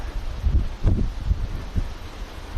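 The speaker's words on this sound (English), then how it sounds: "Wasn't this windy before, it's only probably because it comes to the coastline." Wind on the Queensland coast at Mackay beach, a steady low rumble with several strong gusts buffeting the microphone, close and fairly loud, with no talk.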